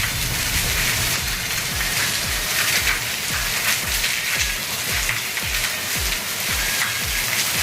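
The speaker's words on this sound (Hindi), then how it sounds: "कितना बारिश है संगवारी," Heavy rain pours steadily and loudly, a dense hiss of drops hitting a surface with faint pattering throughout and no voices.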